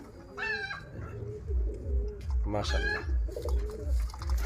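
Repeated low, soft pigeon coos in a steady rhythm close by, with someone speaking over them and a higher bird call early on.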